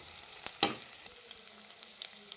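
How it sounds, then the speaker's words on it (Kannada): Green chillies fry in oil with onions for chicken keema gojju, a low sizzle under one sharp clack of a utensil on the pan and a few light scraping stirs. "ಹಸಿಮೆಣ್ಸಿಕಾಯಿ ಕೂಡ ಸ್ವಲ್ಪ ಸಾಫ್ಟಾಗಿ ಫ್ರೈ ಆಗಬೇಕಾಗಿ ತನಕ ಈ ರೀತಿ ಬಿಡಬೇಕಾಗಿ ಹಾಸ್ಕೊಂಡು ಫ್ರೈ ಮಾಡ್ಕೊಬೇಕಾಗತ್ತೆ"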